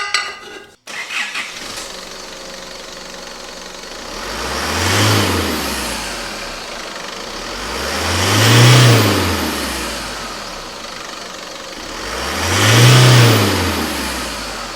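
An Isuzu MU-X diesel engine is started and then revved three times under boost, each rev swelling and falling in a smooth rising-then-falling arc, loud and close, with no speech.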